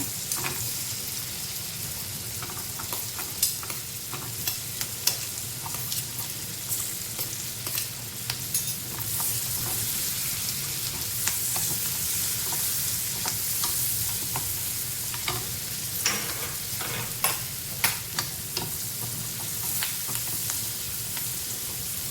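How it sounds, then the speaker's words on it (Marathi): Chopped onion with green chilli fries in a pan, a steady close sizzle running throughout, broken by scattered sharp scrapes and clicks of a spoon stirring. "कांदा टाकते"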